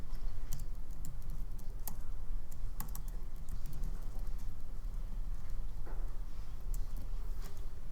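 Rapid, steady clicking of a computer keyboard being typed on during a software engineering programming lecture, close and continuous with irregular louder keystrokes over a faint room hum, no talking.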